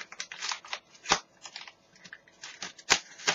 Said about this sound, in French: Je vais ouvrir la lettre